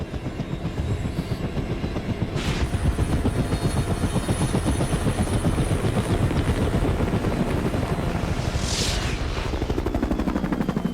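Helicopter airlifting an injured person to hospital after the Osaka rapid train wreck, a loud continuous rotor throb with dense pulsing chop throughout, no voices.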